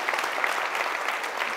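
A church congregation claps together in sustained, even applause for a couple of seconds, dense and fairly loud, with no voice standing out.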